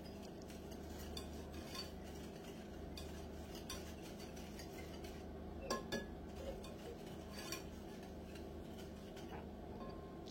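Cake batter of flour, baking soda and baking powder is stirred in a bowl, the utensil clinking and scraping against the sides in a steady rhythm with a few sharper knocks, close and fairly quiet.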